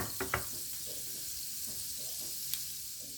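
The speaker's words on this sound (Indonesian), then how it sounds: "Ratakan margarin atau butternya ke seluruh permukaan teflon." Margarine or butter melts and sizzles across a Teflon pan, a soft continuous hiss with a couple of small clicks early on and near the end.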